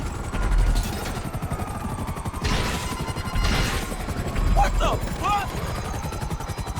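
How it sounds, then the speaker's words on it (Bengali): A helicopter in GTA V comes down in a crash landing, its rotor chopping in a fast steady pulse with metallic knocks and crunches partway through, while voices exclaim and chatter over it. "হেলিকপ্টার কিলো বন্ধ হয়ে গেছে আরে ক্র্যাশ ল্যান্ডিং"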